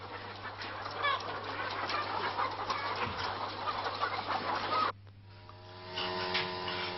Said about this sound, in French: elle s'occupe du poulailler. Aujourd'hui, elle a 8800 poules